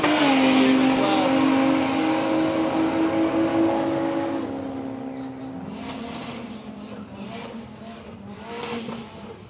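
A supercharged Z28 Camaro on 265 street radials drag races, its loud engine howl strong at first, then fading as the car pulls away. Faint crowd or track noise carries on behind it.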